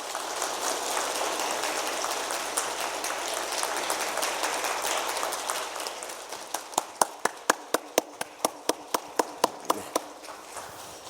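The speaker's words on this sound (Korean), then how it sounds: "다른 때보다 2배로 뜨거운 박수로 축하하도록 하겠습니다" Church congregation at a Sunday worship service claps in a dense, sustained burst that thins out into a handful of distinct, evenly spaced claps near the end.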